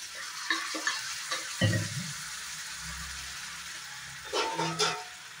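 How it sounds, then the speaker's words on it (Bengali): Bottle gourd sabji cooking in a pan just after hot water is poured in, with a few stirring scrapes and a bubbling simmer, then more stirring clatter near the end; no talking. "সবজিটা ভালো করে সিদ্ধ হোক আর নিচে যাতে লেগে না যায়, একটু গরম জল দিয়ে দিলাম।"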